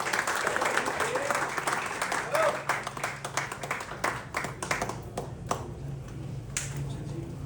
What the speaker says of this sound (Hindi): नायक दीपचंद जी साहब के लिए जोरदार तालियां।